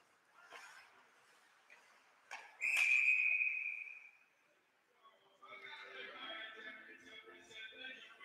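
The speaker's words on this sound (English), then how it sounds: "And we got a whistle." A referee's whistle at a college lacrosse game sounds one shrill, sustained blast of about a second and a half, with crowd and game noise before and murmured voices after.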